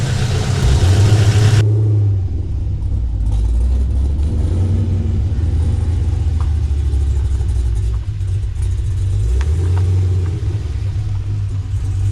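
A Camaro SS V8, freshly fitted with a new engine, is revved hard at first, then drops to a deep, loud rumble that steps up and settles again. It is heard close and continuous, with no voices.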